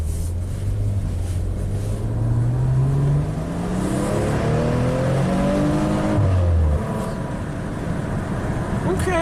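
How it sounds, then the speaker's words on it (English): Maserati car accelerating gently on a test drive, a moderately loud engine hum rising smoothly in pitch over several seconds, dropping and climbing again as the car pulls away, heard from inside the cabin. "Let's do a little gentle acceleration."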